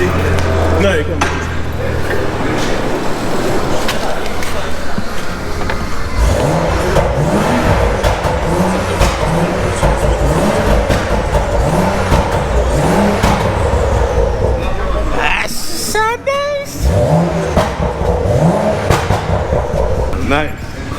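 A BMW 435i fitted with a Vibrant resonator exhaust is blipped repeatedly nearby, a quick run of short deep revs followed by a couple of bigger ones, loud and steady over an idle, with people talking.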